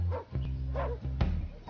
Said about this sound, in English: Peggy Sue, what are you barking at?